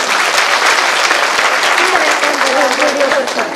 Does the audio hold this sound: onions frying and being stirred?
no